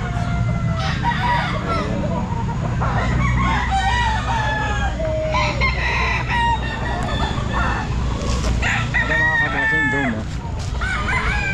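Several stag roosters crow repeatedly and overlap at a pet market at the Grotto, loud and close, with clucking and a busy market hum beneath, voices talking in the background.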